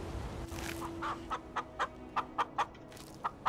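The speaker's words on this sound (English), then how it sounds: "Apparently they don't care about these chickens." Chickens clucking in the video game Skyrim, a series of short, evenly spaced clucks over a steady low in-game ambience, fairly close and clear with no talk.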